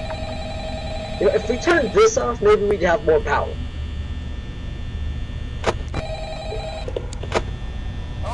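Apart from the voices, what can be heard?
telephone ringing in video game Five Nights at Freddy's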